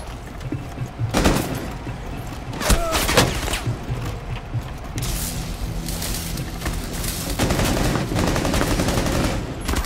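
Heavy, sustained gunfire in a Rainbow Six Siege team deathmatch on the Yacht map, with loud dense bursts and rapid automatic volleys filling the whole stretch almost without pause.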